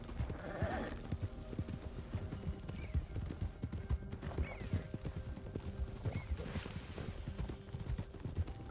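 Horse hooves in the RedM video game clip-clop in a steady, continuous gait at a moderate distance, with a faint whinny early on and a constant low game ambience beneath.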